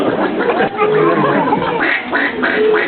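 A human voice imitates a duck, giving a run of nasal, raspy quacks in quick succession, close and loud, performed for a live audience.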